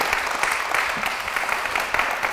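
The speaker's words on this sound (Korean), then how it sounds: "우리 목사님과 장로님께 다시 한번 좀 박수가" Church audience clapping for a pastor and an elder, a dense, even patter of many hands at moderate volume filling the short stretch, with a little background murmur.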